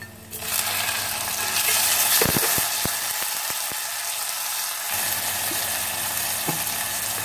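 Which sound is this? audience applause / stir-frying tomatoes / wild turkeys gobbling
stir-frying tomatoes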